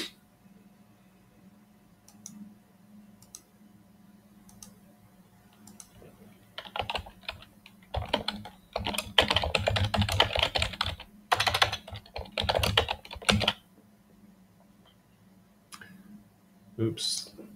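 Computer keyboard typing: faint scattered key taps at first, then dense bursts of rapid clicking, close and crisp over a low steady hum, with a person speaking between the bursts.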